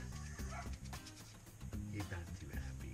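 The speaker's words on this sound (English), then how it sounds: "Hear the dog barking?" A dog barks repeatedly in the background, its short yaps mixed with a person talking and other busy noise throughout.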